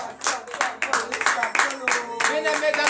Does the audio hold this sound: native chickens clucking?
no